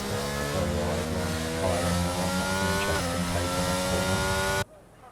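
Aston Martin race cars on a circuit, a loud sustained engine roar with rising and falling revs, cut off abruptly near the end.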